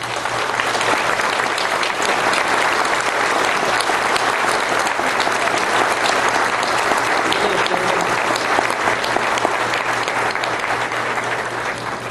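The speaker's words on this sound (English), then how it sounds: "please give them a round of applause while they exit" Sustained, loud applause from a big crowd at a spring college commencement ceremony for an associate in science class, an even roar of clapping that stays at full strength for over twelve seconds without a break.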